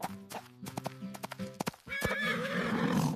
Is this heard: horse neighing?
yes